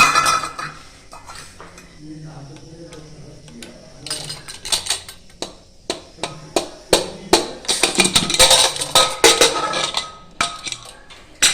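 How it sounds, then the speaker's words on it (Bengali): A pressure cooker of Bengali mutton curry being opened and handled, with sharp metallic clanks and rattles of lid, utensils and vessel that grow busier and louder toward the end, a voice speaking briefly in between. "চলো এরপর খুলি কুকার দেখি সেদ্ধ হলো কিনা"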